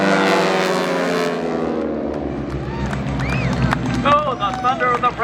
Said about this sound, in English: Oh, the thunder of the Pratt & Whitney engines.